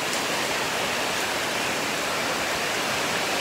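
Steady, dense hiss of rain pattering down continuously on a birdcage holding a zebra dove, even and close, with no breaks or voices.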